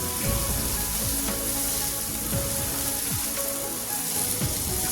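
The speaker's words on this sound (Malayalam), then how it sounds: "അതും കൂടെ ചേർത്ത് നല്ലതുപോലെ ഒന്ന് വഴറ്റി കൊടുക്കാം" Small chicken pieces sauté in masala in a hot pan with a steady, loud, close sizzle and frying hiss, broken by a few soft stirring scrapes, with no voices.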